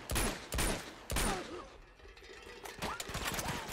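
Gunfire in the video game Uncharted 2, with loud bursts of shots in quick succession near the start, then scattered softer shots and thumps, without speech.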